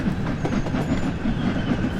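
A simulated train in Train Sim World rolls along the Peak Forest route on the Buxton Midland to Manchester Central line, wheels giving a steady rhythmic clickety-clack over a continuous low rumble, close and fairly loud throughout.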